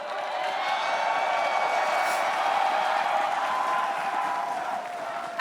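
A large esports arena crowd at a League of Legends championship final roars and cheers in a steady, loud, continuous wash of voices and applause, with no distinct chant rhythm standing out.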